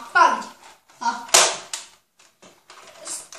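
Several sharp snaps of a Nerf toy blaster firing foam darts, close and loud, with children's voices speaking between the shots.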